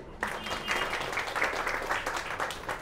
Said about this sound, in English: So I think firstly a big round of applause to all of you.